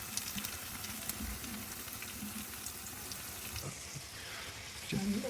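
Potato fries frying in oil, a soft, continuous low sizzle with faint bubbling, fairly quiet throughout and a slight bump near the end.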